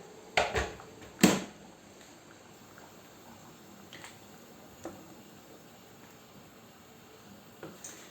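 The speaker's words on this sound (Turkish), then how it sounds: "Koyuyorum suyunu. Az bir su." A small amount of water splashes into a pan of cooking potatoes in a couple of brief, close pours, followed by faint sizzling and occasional soft clicks.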